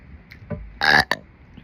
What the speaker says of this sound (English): And burp for them for a little bit.